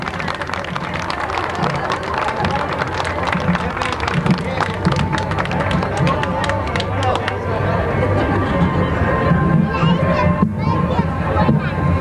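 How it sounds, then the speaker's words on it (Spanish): Dense crowd applause at a live concert before a song, a steady wash of many hands clapping that carries on loud for several seconds, mixed with crowd noise and voices and fading toward the end. "Un aplauso para esta."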